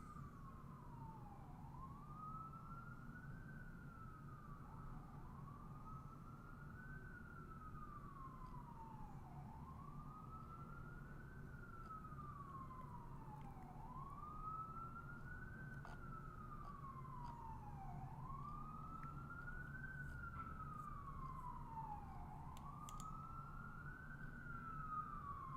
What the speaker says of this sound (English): That is a lot of sirens right now